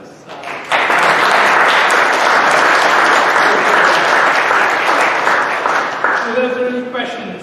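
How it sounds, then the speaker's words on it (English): Audience at a BioWearables panel event breaks into loud, dense applause for the panelists, sustained for several seconds before thinning out as a few voices emerge at the end. "I think it's high time that we give another round of applause for the panelists."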